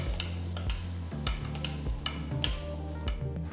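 Boiled potatoes being mashed in a pan together with onion masala, with repeated soft stirring and pressing strokes over a gentle background sizzle at close range.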